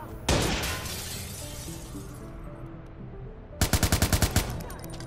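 Baxter fires a gun in Watch Dogs: Bad Blood, beginning with a single sharp, shattering crack and its tail, then after a lull a close, loud rapid burst of about eight shots.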